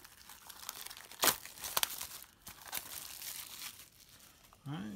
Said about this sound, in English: today we're going to be opening up another Guardians Rising booster box